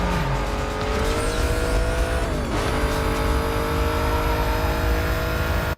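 High-revving car engine in Need for Speed Most Wanted screams at over 200 mph in sixth gear, a loud continuous whine with a gear-shift dip partway through, tire noise underneath.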